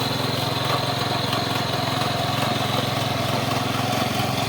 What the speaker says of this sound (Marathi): पाहू शकता की चांगल्या पद्धतीनं आपलं वखर चालतं